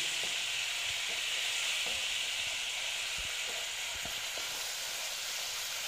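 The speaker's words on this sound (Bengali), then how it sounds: "আমি অল্প করে জল দিয়ে দিচ্ছি। দিয়ে আবার মশলাটা একটু মিক্স করে নিচ্ছি।" Koi fish curry masala fries hard in a pan after a splash of water, giving a loud, steady close sizzle, with soft scraping stir taps scattered through it.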